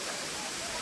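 Balagbag Falls pours down in a steady, loud rush of water, a close and unbroken wash of white noise with no other sound over it.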